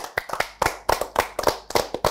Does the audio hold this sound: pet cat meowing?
no